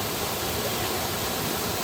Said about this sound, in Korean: 폭포에서 떨어지는 물소리는 듣고만 있어도 저절로 힐링이 되는 듯합니다.